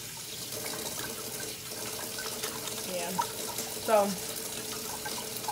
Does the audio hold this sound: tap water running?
yes